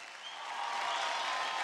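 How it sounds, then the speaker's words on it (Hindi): On a televised dance competition show, a studio audience gives a short burst of applause that swells quickly, a smooth wash of distant clapping and crowd noise lasting under two seconds. "एक बार जोरदार तालियां हो जाए"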